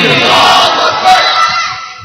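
A large audience at a religious sermon shouts Allahu Akbar in unison in response to the Nara-e-Takbeer call, a loud, dense roar of many voices that swells and then fades over about two seconds.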